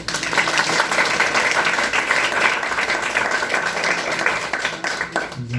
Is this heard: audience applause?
yes